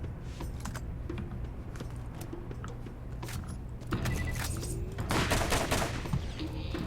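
Rapid hip-fire gunshots from Borderlands gameplay, a steady stream of clicky bursts that grows louder and denser partway through, with no talking over it.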